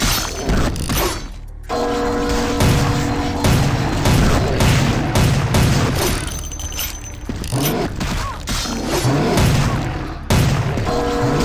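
Heavy gunfire and impacts in Vampire the Masquerade: Bloodlines, loud rapid shots and booms running almost continuously, with a couple of short pauses and crashing hits in between, no talk.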